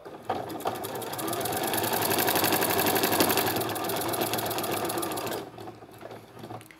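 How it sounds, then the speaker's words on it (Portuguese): A sewing machine runs steadily for about five seconds, its fast, even needle chatter sewing a binding strip onto a Christmas project, then stops and leaves a quiet room. "Vou dando uma leve esticadinha na faixa do debrum. E vou costurando."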